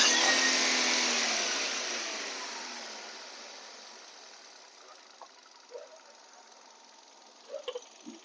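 A 2018 Hyundai i20 petrol engine revs, starting loud and then winding down to a quiet idle, with a few faint clicks and knocks near the end.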